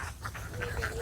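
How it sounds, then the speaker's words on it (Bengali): Ducks on an open-air duck farm quacking in a quick run of short, nasal calls, close and fairly loud over low background rumble. "সুন্দর সুন্দর একটি হাঁসের খামার"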